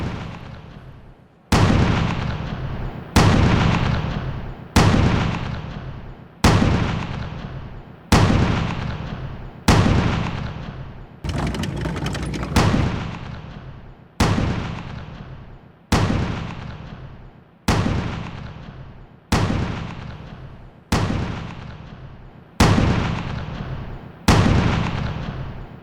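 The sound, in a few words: artillery shelling in Donetsk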